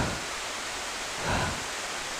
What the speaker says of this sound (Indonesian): mungkin sudah mendengar ya suara air sungai